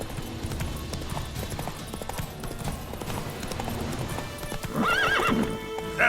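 Roach, the horse in the game The Witcher 3, galloping with steady rapid hoofbeats, followed near the end by a loud, close whinny.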